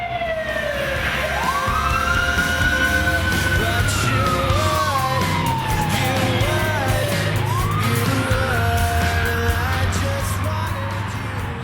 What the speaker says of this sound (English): And this is my fire engine that I drive.